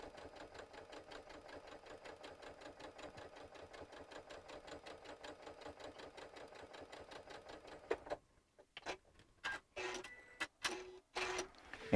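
A sewing machine stitches quilt pieces for a gnome Christmas table topper in a fast, steady run of needle strokes for about eight seconds, then stops and gives way to a few short, sharp bursts of stitching and handling clicks.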